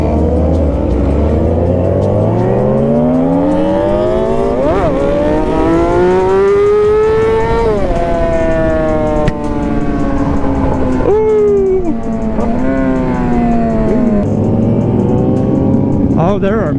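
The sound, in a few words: many motorcycles riding on the road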